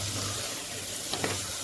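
A spoon stirs chana masala with chopped tomato in a pot, a faint, steady sizzle with a couple of small clinks near the end.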